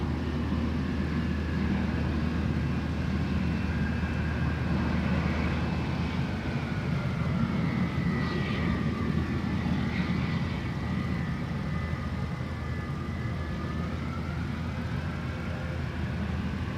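A jet airliner arriving at Anchorage's Ted Stevens airport gives a steady, loud engine roar with a faint whine drifting higher midway, continuous throughout and with no voices.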